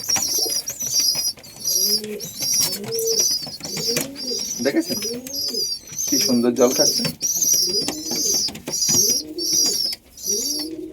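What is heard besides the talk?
pigeons cooing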